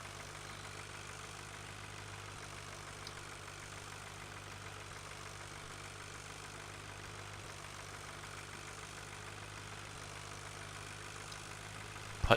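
Tractor engine in the Farming Simulator 2013 video game, hauling heavy cattle at about 14 miles an hour, holding a faint, steady low drone throughout with no other sounds.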